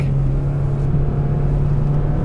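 A 2019 Mazda 3 hatchback AWD drives through the wettest part of a race track, its engine holding a steady low drone with road rumble throughout, loud and close from inside, no talking.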